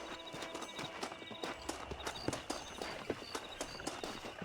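Hooves clip-clop in a quick, regular rhythm, a horse trotting on firm ground in Red Dead Redemption, moderately close with light background noise.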